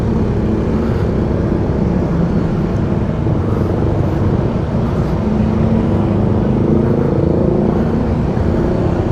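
A Yamaha Mio scooter engine runs after a kickstart, a loud, steady, close engine drone that continues without a break.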